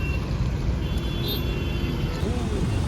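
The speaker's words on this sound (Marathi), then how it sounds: "तुम्ही बघू शकता ट्रॅफिक बघा केवढी आहे" Road traffic heard while riding a bike produces a dense, steady roar of engines and tires that fills the clip, with a faint high whine and a brief tonal beep.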